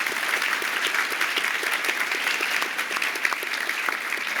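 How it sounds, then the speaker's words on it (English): Steady applause from a conference audience at a live tech podcast event, welcoming a guest speaker to the stage; dense, even clapping throughout with no voices. "give a warm round of applause and a warm welcome to José Valim"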